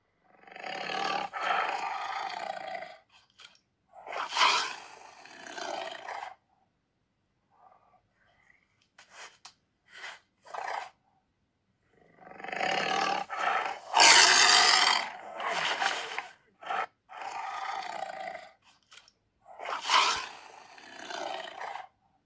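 Tiger (Panthera tigris) roars in a series of loud, rough bursts with short pauses between them, alternating with lower growls and snorts, up close with no talking.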